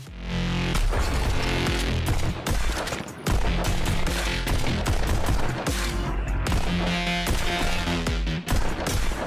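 Rapid gunfire from a VR rhythm shooter by Cloudhead Games blasts in dense bursts synced to a pounding techno beat, loud and continuous with brief pauses, no voices.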